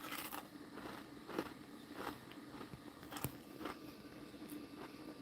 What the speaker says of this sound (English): I'm stuffing my face with cinnamon toast crunch.